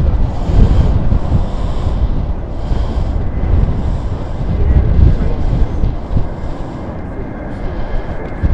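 A Ryanair jet departs Stansted Airport, a broad roaring rumble with gusty wind noise, heard at a distance from outdoors and sustained throughout.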